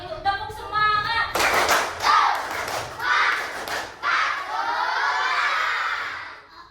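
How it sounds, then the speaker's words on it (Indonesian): A classroom of students performs a rhythmic spirit clap, bursts of patterned hand claps mixed with children's shouts and thumps, loud and close, after a teacher's brief voice at the start. "Tepuk semangat."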